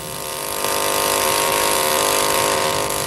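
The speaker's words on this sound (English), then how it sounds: "A diamond drill is used to obtain cores of lava." A diamond drill boring out cores of lava rock gives a steady, loud mechanical whine and grinding hum that swells slightly after the first half second and then holds constant without pause.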